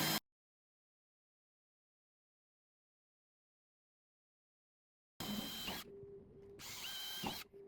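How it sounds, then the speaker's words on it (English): A power drill bores holes into timber or metal fascia for a carport bracket install, with two close, loud bursts of whining drilling separated by a brief pause, after a short blip and a long silence at the start. "all you need to do is drill a hole at the top and the bottom of that area that you've marked."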